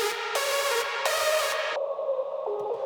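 A synth lead pulses through a muffled, band-limited telephone-style filter, its bright held notes cutting in and out before a thinner filtered tone continues alone.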